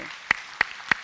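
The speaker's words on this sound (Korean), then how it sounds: "우리 뜨겁게 박수로 환영하겠습니다." A church congregation welcoming newcomers with applause, though only three sharp, evenly spaced claps ring out close and clear over a quiet room.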